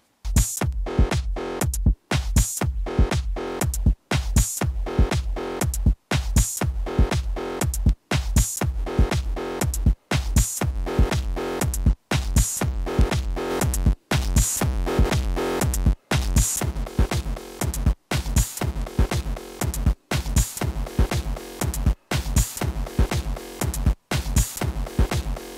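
Drum loop run through a Bit Maestro bit crusher plugin, a steady repeating beat with crunchy, distorted hits and sharp dropouts, loud and close with no talking.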